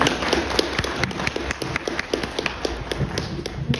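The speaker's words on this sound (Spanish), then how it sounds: "Vamos a darle un aplauso para recibir sus palabras" Audience applause at a book presentation for a poet, crisp individual claps from a small crowd ringing out close and fairly loud in an uneven, steady patter with little talk.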